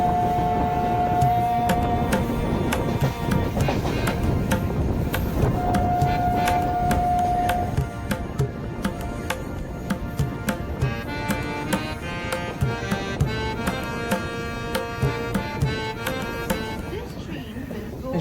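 A local train runs on the way to Dakshineshwar, heard from inside a carriage: a steady rumble and clatter of wheels with long sustained horn-like tones, continuous and fairly loud throughout.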